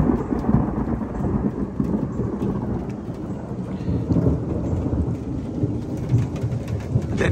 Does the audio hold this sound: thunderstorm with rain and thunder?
yes